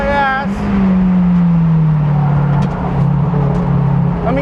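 A Porsche Cayman GT4 Clubsport race car closes in on track behind a 2017 Mazda MX-5 Cup racer, engine drone sliding down in pitch as it draws near, loud and continuous over the Mazda's own engine.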